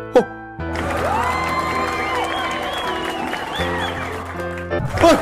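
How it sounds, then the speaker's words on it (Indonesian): Students in a classroom applauding a new teacher: a steady wash of clapping with children's voices and tonal sounds layered over it, starting just after a short voice and fading near the end. "nggak usah tepuk tangan segala"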